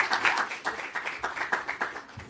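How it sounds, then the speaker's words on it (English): Warm audience clapping for a panel host at a climate finance conference, a brief burst of distinct hand claps from a modest crowd, fairly faint and irregular. "Give her a warm hand of applause."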